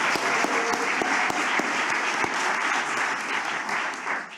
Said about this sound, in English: Can we first have an applause for this?